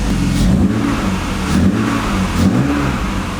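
A BMW E36 M3 engine revs hard in repeated loud pulls, rising and falling close by with a steady rough rumble underneath and no talking.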